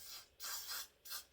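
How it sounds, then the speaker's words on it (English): Three quick hissing bursts of Got to Be Glued Freeze aerosol styling spray on a wig, close up, with short pauses between them. "I also spray it with the Got to Be Glued Freeze Styling Spray"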